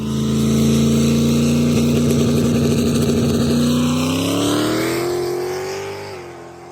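A street race car launches hard and accelerates, its loud engine note climbing steadily in pitch as it pulls away, with no talk over it.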